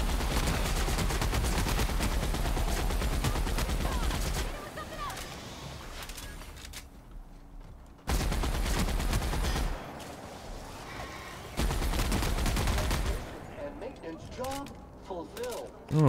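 Rapid enemy gunfire in The Outer Worlds comes in loud, dense bursts, stopping and starting over about three volleys with quieter pauses between them.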